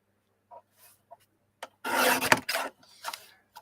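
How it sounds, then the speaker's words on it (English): Paper artwork being trimmed down to six inches for a Groovi layout, heard as a quick scratchy rasp that swells loud for about a second, then a shorter follow-up stroke and fainter rustles, close by with no talking. "So I'll trim this down to 6 inches."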